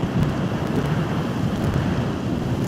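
A thunderstorm in The Witcher 3 produces a continuous wash of rain and wind noise with a low rumbling undertone, steady and fairly loud, with no voices.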